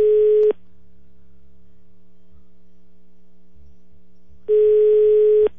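A telephone ringback tone on an outgoing call: two long, steady electronic tone bursts separated by about four seconds of quiet, over a low background hum.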